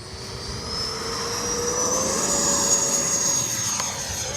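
An FMS Super Scorpion V2 radio-controlled model jet's high-pitched turbine whine builds steadily with a rising tone, loud and continuous as it takes off down a runway in strong wind, with wind rumble underneath.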